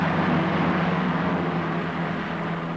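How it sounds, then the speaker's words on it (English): A Phantom jet's second engine winds up on an aircraft carrier deck, a steady droning whine and low rumble that holds fairly constant and eases slightly toward the end. "Second engine winds up."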